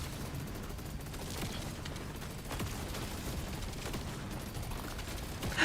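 Rapid automatic fire from the autocannon in the video game Deep Rock Galactic Survivor, a dense, continuous stream of gunfire bursts and impacts layered with game effects, steady and loud throughout.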